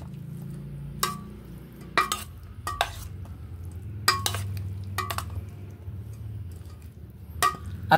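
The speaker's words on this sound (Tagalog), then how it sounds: "At haluin natin." A spoon stirs dinakdakan after vinegar is added, making several sharp clinks against the pot at irregular intervals over a low background hum.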